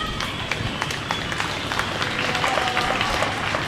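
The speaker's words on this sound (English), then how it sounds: "give them a huge round of applause" Steady applause from an audience at a county dairy cattle and beef show, cheering senior showmanship contestants; dense, continuous clapping fills the whole stretch at a fairly even level, with no talk.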